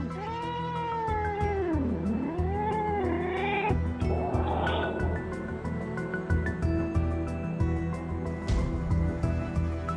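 Stray cats yowl and meow in mating season, long wavering cries rising and falling over the first few seconds, then fainter calls over steady background noise.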